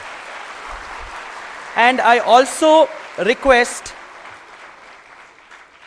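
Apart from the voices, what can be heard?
audience applause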